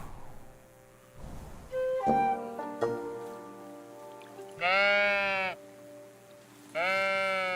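Sheep in the cozy building game Tiny Glade bleat in a few separate, clear calls with short pauses between them, close and loud, over soft ambient game sounds.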